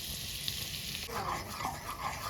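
Flour is stirred into a butter and oil base in a pan for a sauce, a close hiss of frying with a spoon scraping and swirling through the thickening mixture in brief strokes.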